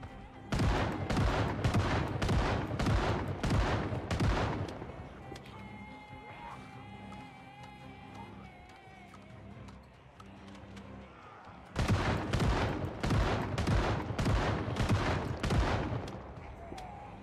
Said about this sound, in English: now that's how a gun should fire and kill zombies